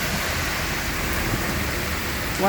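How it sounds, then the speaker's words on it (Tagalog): Heavy rain pours down in a steady, dense hiss that never lets up. "Grabe, ulan."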